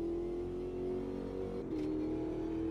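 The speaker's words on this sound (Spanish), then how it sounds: "Vemos que dentro del túnel cambia el sonido del coche" Race car engine in the Automobilista 2 racing simulator hums at a steady pitch inside a tunnel, dipping briefly as a gear shifts and then holding again; fairly quiet throughout.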